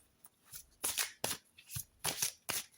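Playing cards are shuffled by hand in quick bursts, about six crisp riffling rustles in a short span, near and fairly quiet, with no talk over them.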